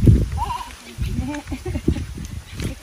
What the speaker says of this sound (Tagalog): Maraming siyang kambing.